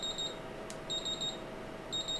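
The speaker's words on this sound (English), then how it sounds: "it does sound a little bit like an alarm clock" An Aerocool Strike-X touch screen fan controller sounds its temperature alarm, a high electronic beep pulsing in quick bursts of four, repeating about once a second over a low steady hum.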